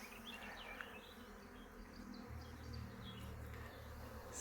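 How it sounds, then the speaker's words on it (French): Bees buzz around a hive in a vegetable garden, a soft continuous swarm drone with individual insects zipping past, and a lower hum swells in after a couple of seconds, all fairly quiet and distant. "on dirait des abeilles extérieures qui viennent"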